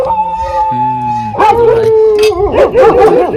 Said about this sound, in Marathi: कुत्री का बुकते ते काय जण?